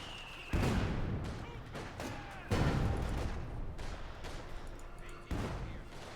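Gunfire and field gun shots in a Company of Heroes 2 match, several sharp loud booming impacts a second or two apart over continuous rattling battle noise, with commentary running underneath.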